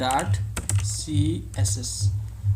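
Fingers typing a CSS filename on a computer keyboard, a steady series of soft clicking keystrokes heard close under a man's ongoing speech.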